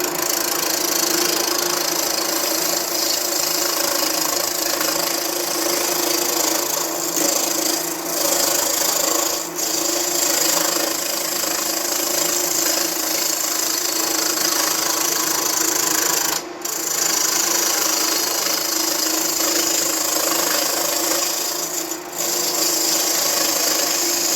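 Firewood spinning on a wood lathe is shaped into small keychain baseball bats, a continuous close rasping scrape over the steady hum of the lathe motor, with brief dips where the tool lifts off.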